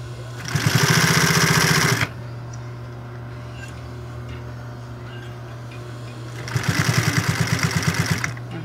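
A sewing machine stitches bias binding onto a bra in two fast rattling bursts, each about two seconds long. A steady low motor hum carries on through the quiet gap between them.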